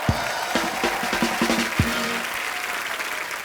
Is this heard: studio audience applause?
yes